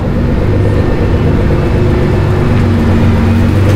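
A Lamborghini engine roars steadily with a deep, throaty exhaust rumble, loud and close, holding a constant drone throughout.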